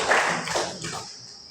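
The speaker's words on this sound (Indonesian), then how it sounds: "Tepuk tangan." A brief burst of group hand clapping that quickly fades to quiet.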